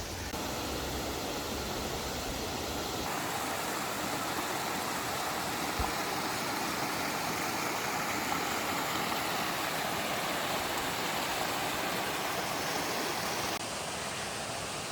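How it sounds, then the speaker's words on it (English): A small hidden waterfall and rushing stream along an uphill hiking trail in Shenandoah National Park, making a steady, loud, broadband water roar that holds unbroken throughout, with no voices. "So many little hidden waterfalls on the way."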